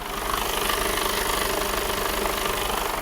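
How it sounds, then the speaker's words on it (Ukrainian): The 12.8-litre diesel engine of a 2015 Mercedes Actros truck, in excellent condition, idles nearby, a steady loud clattering rumble that never changes pace. "Я ще хочу продемонструвати, як звучить у нас двигун і як він працює рівненько."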